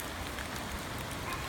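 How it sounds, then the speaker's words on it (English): Steady rain falls on a flooded side yard with decking and lattice, a dense, even hiss that holds without pause at close range. "it's starting to rain on me"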